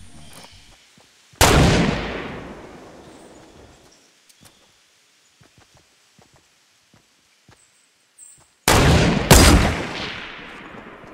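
Gunfire in the video game Fortnite: two loud bursts of shots, one around the second mark and a double burst near the end, with sparse faint clicks and ticks between them.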